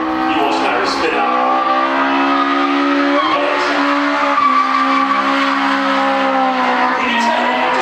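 A drift car at a Japfest drift event skids and slides, its engine droning loudly and steadily with sustained tire squeal throughout, close and continuous.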